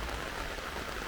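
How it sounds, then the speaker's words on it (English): Steady rain pours in Montego Bay, Jamaica, a dense, even hiss of drops striking surfaces all around with no break. "Doing a video in the rain."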